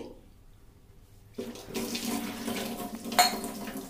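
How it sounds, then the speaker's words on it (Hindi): Water from a glass pours into a pot of soaked sabudana (tapioca pearls) in a home kitchen, starting after a quiet moment as a steady close splashing stream with a brief louder gush near the end. "इसमें हम वापस से तीन से चार गिलास पानी डाल देंगे"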